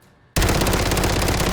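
A submachine gun in a video game opens fire after a brief hush and keeps going as one loud, rapid, unbroken automatic burst with no talking over it.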